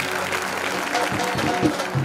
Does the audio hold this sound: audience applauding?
yes